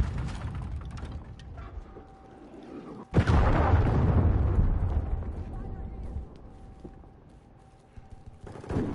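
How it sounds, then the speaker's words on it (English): Video-game cruise missile launch and explosion: gameplay noise, then a sudden loud blast with a long rumbling decay that fades over several seconds, with a voice speaking before it. "Friendly cruise missile deployed."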